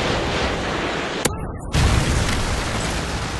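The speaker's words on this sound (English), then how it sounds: "Predator missile inbound." Predator missile explosion in Modern Warfare 3 multiplayer: a sharp crack cuts through dense, loud noise, a brief hush follows, and then a heavy, booming burst rolls on as steady rumbling roar.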